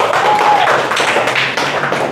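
Schoolchildren in a classroom clapping together, a brief, loud burst of rapid, dense claps with no voices over it.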